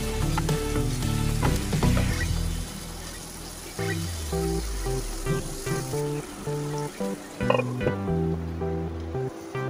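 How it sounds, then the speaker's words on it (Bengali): Papaya and potato being stir-fried with spices in a hot pan for a catfish curry, a steady loud sizzle with stirring scrapes that fades slightly toward the end, no voices. "তো নেড়ে চেড়ে সব মশলার সাথে পেঁপে আর আলুটা মিশিয়ে নেব আমি।"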